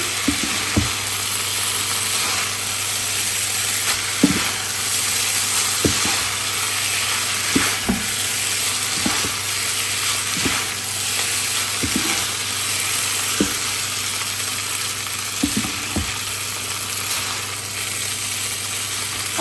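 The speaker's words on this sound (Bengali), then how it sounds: "আমার কাছে সবসময় নুডলস মিক্স করতে একটা কাঁটা চামচ আর এই চামচ দিয়ে মিক্স করতে বেশি ইজি লাগে" Beef noodles being stirred and tossed in a hot pan with a fork and spoon, a steady sizzle of frying underneath with irregular soft clinks and scrapes of utensils against the pan.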